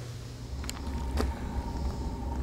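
A DIY diesel heater inside a truck shell starts up, a low steady mechanical hum and rumble with a couple of brief clicks, fairly faint and without talk.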